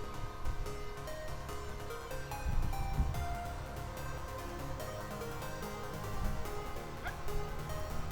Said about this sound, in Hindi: गर्मी इतनी भयंकर है कि बेचारे कुत्ते भी परेशान हो रहे और पानी का मज़ा ले रहे